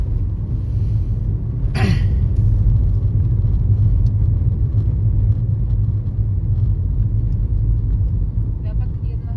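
Steady road traffic of cars and jeepneys on Quirino Highway, a continuous low engine rumble with a brief passing whoosh near the start, voices faintly mixed in.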